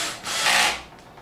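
A torque screwdriver drives a screw into a desktop computer power supply, giving one close, smooth rasping turn that swells and fades in a little over a second, with no talk.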